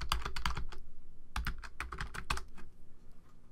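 Close, crisp keystrokes on a computer keyboard come in quick bursts with short pauses between words, the clicks moderately loud with no voices.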